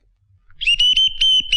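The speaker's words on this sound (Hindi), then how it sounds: "इसकी तो सीटी बच गई है।" A loud, shrill whistle sound effect in a Hindi comedy film scene, sounded as a few sustained toots broken by short gaps, alone after a quiet start.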